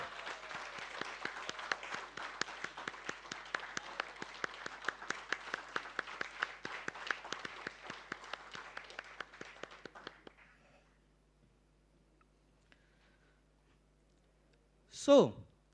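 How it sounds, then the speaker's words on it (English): An audience at a company listing ceremony applauds with dense, steady clapping for about ten seconds. The clapping thins out and stops, leaving near silence, and then one brief loud knock or bump follows. "A big round of applause for them."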